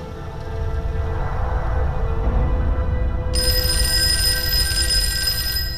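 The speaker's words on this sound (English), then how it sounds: "Phone rings again." A telephone rings, its tone sounding partway through over a loud, dense rumble that fills the whole stretch.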